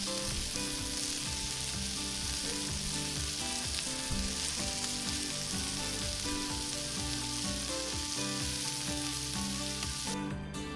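A keto quesadilla filled with sausage, eggs and cheese sizzles steadily in a pan while the bottom toasts, a continuous loud frying hiss close up with no talking.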